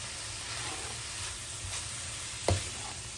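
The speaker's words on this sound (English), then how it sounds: "Stirring that up." Chicken and vegetables seasoned with curry and salt fry in a pan while being stirred, giving a steady close sizzle with soft scraping and a brief clatter near the end.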